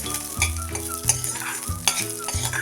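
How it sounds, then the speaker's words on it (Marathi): A spoonful of urad dal stir-fried in hot oil for a ridge gourd peel chutney, a steady sizzle broken by repeated scrapes and knocks of the spoon against the pan. "उडीद डाळ आपण ही थोडीशी लालसर होईपर्यंत परतून घ्यायची"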